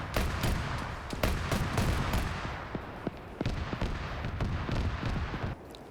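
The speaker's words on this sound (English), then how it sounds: "they're desperately just trying to push these guys off of this position with these autocannon rounds coming in" Rapid autocannon rounds and gunfire crack repeatedly in a modern-day civil war PvP combat game, with dense overlapping bursts and distant impacts rumbling loudly and steadily, alone without talk.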